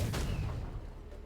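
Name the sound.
cannon firing in Rogue Legacy 2 video game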